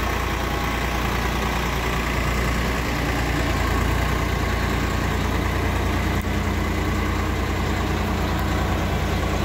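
A Swaraj 855 55 HP tractor engine runs continuously with a loud, steady low diesel rumble at close range, with no talking over it.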